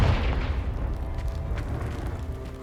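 A Confringo fire spell blasts at a pile of debris in Hogwarts Legacy: one loud, dense boom with a rumbling low end, then a long, steady crackling tail that fades slowly without dropping away.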